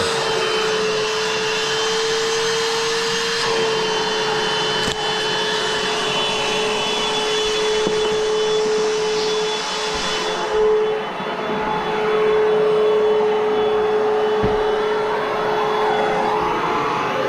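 Steady, loud whirring drone of a vacuum pump evacuating the refrigerant lines of a Samsung 24k BTU single-zone mini-split heat pump during installation, continuous and unchanging throughout.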